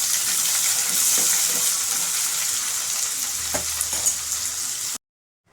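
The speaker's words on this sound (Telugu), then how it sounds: "ఆనియన్స్ గోల్డెన్ బ్రౌన్ వచ్చేంత వరకు మనం వేయించుకోవాలి." Onions fry in oil until golden brown for a chicken fry-piece biryani, a loud dense hiss of sizzling, with occasional spatula scrapes and taps nearby, then a sudden cut to silence.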